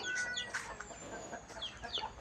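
Chickens cluck repeatedly at a Thai temple in Lampang at dusk, soft irregular calls close by, with no talk over them.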